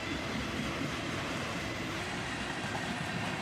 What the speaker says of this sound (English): the tail end passes us by, brought up by a bunch of tank cars